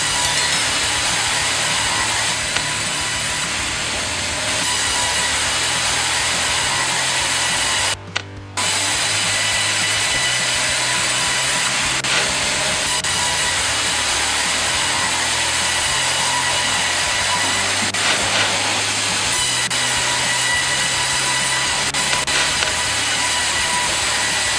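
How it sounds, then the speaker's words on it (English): A sawmill machine with dual vertical blades cuts timber into boards, producing a steady, loud broadband whine and grinding roar that holds nearly unbroken, with one brief cut-out partway through. "it delivers precision cuts with dual vertical blades, producing boards at a capacity of 5 to 8 cubic meters per hour"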